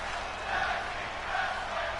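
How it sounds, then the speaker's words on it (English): A wrestling crowd roars and chants during a tag team match in a steady, sustained wash of voices that swells twice, loud and continuous throughout. "So you can hear the crowd chanting"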